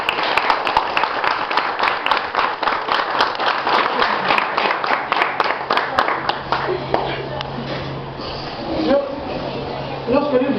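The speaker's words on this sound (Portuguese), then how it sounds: "eu quero pedir uma salva de palmas" A congregation applauds at a funeral service, with dense, steady clapping for about seven seconds before it thins out into murmuring voices and scattered movement.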